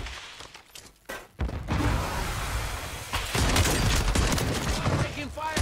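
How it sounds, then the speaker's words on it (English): Loud video-game gunfire from a Reclaimer 18 shotgun: a dense burst of overlapping blasts and impacts fills most of the stretch after a short, quieter opening. "I'm taking fire!"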